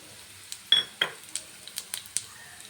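Urad dal, coriander seeds and cumin frying in a pan, a faint sizzle broken by a few sharp clinks and scrapes of a spoon against the metal, close by and with no talk.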